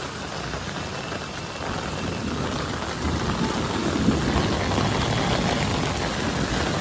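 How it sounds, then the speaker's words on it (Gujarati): Heavy rain pours down in Surat, a steady, dense roar of water that swells slightly midway and holds without pause, with no voices over it. "ધોમે ધોમ વરસાદ પડે છે."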